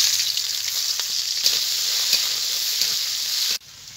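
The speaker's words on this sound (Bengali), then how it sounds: "এখন দিয়ে দেবো পেঁয়াজ কুচি।" Chopped onion sizzling in hot oil with whole spices such as cumin, cardamom, cloves, cinnamon, peppercorns and bay leaf for an egg korma; steady close crackling hiss with occasional stirring, then dropping off abruptly near the end.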